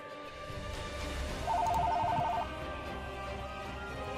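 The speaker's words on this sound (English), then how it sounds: "The phone was ringing." A real telephone rings once in a short electronic trill, faint beneath a low droning game background.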